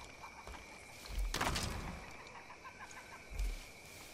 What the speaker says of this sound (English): Oh, I hear chickens.